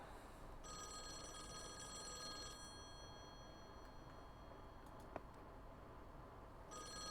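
An old-style telephone bell rings in the horror puzzle game Call of the Elder Gods, in two fairly quiet, shrill bursts separated by a pause, over a low steady background hum.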